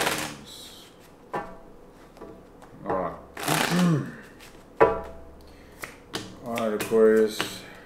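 Tarot cards shuffled by hand in several short bursts, crisp riffling flutters and taps separated by pauses, close and clear with quiet rustles between.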